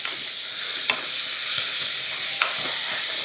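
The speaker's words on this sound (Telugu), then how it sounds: "దీన్ని కొంచెం పచ్చిమిర్చిని ఫ్రై అవ్వనివ్వండి, ఒక 30-40 సెకండ్స్" Green chilli paste frying in oil in a pan, a loud, dense, close sizzle with occasional scrape marks from stirring.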